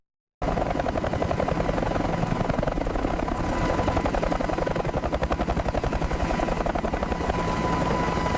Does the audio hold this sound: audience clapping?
no